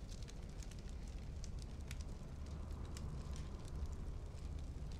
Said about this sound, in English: Maybe you hear noises from outside, or the crackling fireplace